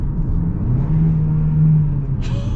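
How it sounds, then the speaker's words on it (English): Turbocharged engine of a 2025 Ford Escape Platinum accelerating, heard from inside the cabin as a loud steady droning hum that climbs gently in pitch, with a faint whistle entering near the end. "Ooh, the turbo sounds cool."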